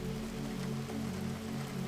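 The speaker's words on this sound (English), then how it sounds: "The rain continued outside, but it had gentled now, become more of a lullaby than a storm" Gentle rain falls outside, a soft, steady patter with an even low hiss and no distinct drops.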